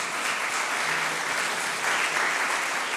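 Continuous applause from an audience at a business awards ceremony, a dense, even wash of many hands clapping with no breaks.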